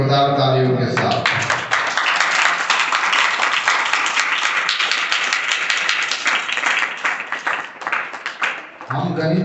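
A school classroom audience bursts into loud, sustained applause for about nine seconds, a dense steady clapping that fades out near the end.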